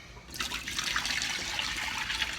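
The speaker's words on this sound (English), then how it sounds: "And some nice hot water." Hot water pours into a pot of cheese slices with a little whey for cheese making, a steady splashing, gurgling stream that begins after a brief quiet start and runs continuously at close range.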